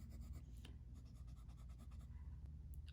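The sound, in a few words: fountain pen nib writing with ink on paper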